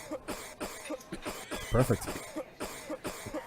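A single loud, harsh cough bursts out in the middle, with quiet speech murmuring before and after it.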